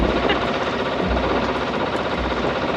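An inboard motor on a sailboat runs steadily while the boat motors into the wind, giving a loud, continuous engine drone with a low throb and no pauses.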